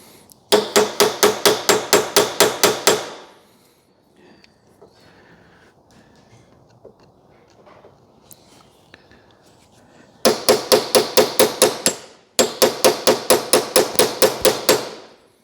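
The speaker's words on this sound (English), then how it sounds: "Basically what we're doing is manual impact driver." Hammer striking a manual impact driver while freeing stuck fasteners on an abandoned 2CV-based Falcon S kit car, three bursts of about ten sharp, evenly spaced metallic blows, loud and close, separated by quiet workshop background.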